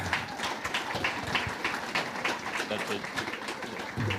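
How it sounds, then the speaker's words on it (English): An audience claps together after a short talk at an outdoor gathering, a steady patter of many hands filling the space for several seconds, with voices murmuring underneath. "Why don't we all give him a clap"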